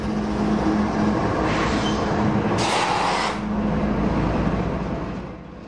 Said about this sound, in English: These diesel-electric locomotives are hitched together